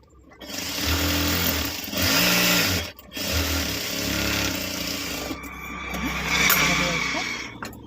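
A sewing machine stitches a bag made from an old top, its motor whirring loudly in steady bursts with brief pauses between runs, close by.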